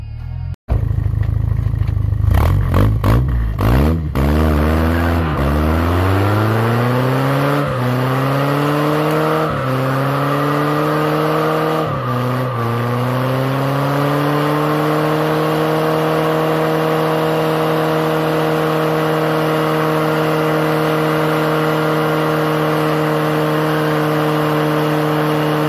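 A rotary engine swapped into a Ford Ranger fires up after a few cranking attempts, then settles into a loud, steady idle with a buzzing, harmonic drone that runs continuously and close up, with no one talking.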